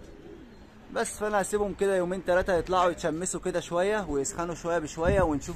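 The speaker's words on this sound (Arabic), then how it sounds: "بص اهو، بص الحمام بيعمل نفسه ازاي،" Domestic pigeons in a rooftop loft give low, soft cooing that sits under someone speaking close to the mic for most of the stretch.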